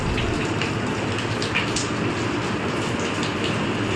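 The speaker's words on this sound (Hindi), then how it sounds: "इतनी जोर तो बारिश होने लग रही कती" Heavy rain pours down steadily and loudly, a dense unbroken wash of drops with no talk over it.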